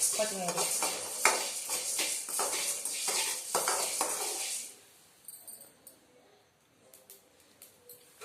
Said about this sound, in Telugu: కొత్తిమీర కూడా వేగినాయి.